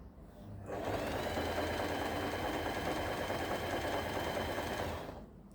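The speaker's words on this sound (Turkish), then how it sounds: "Ben şu an normal ayarlarda C'yi seçtim. Zikzak dikişi yapacağım." A Janome TR2018 sewing machine runs a zigzag stitch, a steady close mechanical hum and rapid needle chatter lasting about four and a half seconds, starting and stopping cleanly with no talk over it.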